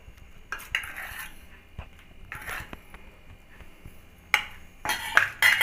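A spoon scrapes and clinks in a bowl while green chillies are stirred with turmeric, mustard spice and salt for a pickle, a few intermittent clattering strokes separated by quiet gaps, close by and with no voices.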